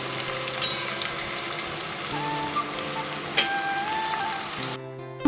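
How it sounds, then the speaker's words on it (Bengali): Chicken, onion and potato pieces frying together in hot oil, a dense continuous sizzle with faint crackles and a tonal hum underneath, close and steady throughout with no voices. "চিকেনের সাথে পেঁয়াজটা ভাজার সাথে সাথে আলুটা দিয়ে দিয়েছি"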